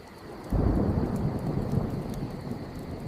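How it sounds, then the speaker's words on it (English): A low rumble of thunder rolls in after a brief quiet moment, mixed with the steady patter of rain at a riverside campsite, continuing without voices. "Did you guys hear that? Sounds like rain."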